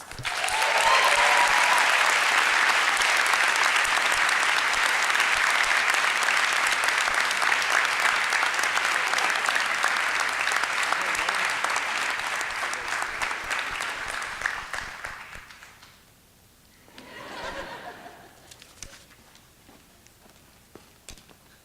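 Sustained loud applause from a commencement audience at a Doctor of Physical Therapy graduation, steady for about fifteen seconds before fading out, followed by a brief murmur and a short second swell of clapping.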